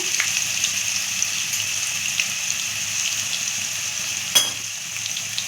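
Sliced elephant foot yam frying in hot oil for a crispy roast, a loud, steady dense crackle with a brief sharp clatter near the end.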